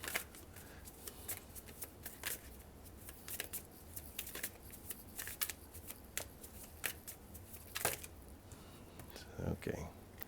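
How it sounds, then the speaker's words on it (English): Tarot cards being shuffled and drawn during a reading, a steady run of soft papery riffles and flicks with sharper snaps here and there, close and fairly quiet, with a voice talking faintly in the background. "it's cherry picking the cards right now"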